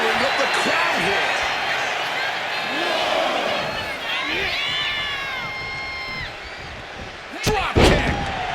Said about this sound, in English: Drop kick.